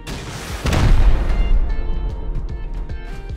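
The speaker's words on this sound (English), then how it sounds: "That rocket hit did damage to the turret." Rocket striking a turret in Rust, a single loud booming impact with a rumbling tail, followed by scattered small clicks and pops.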